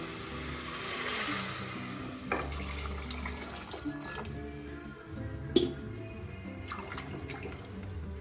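Water is poured steadily into washed rice for a Kerala-style pulao, a continuous close splashing stream with a few sharper clinks, heard over a faint background hum.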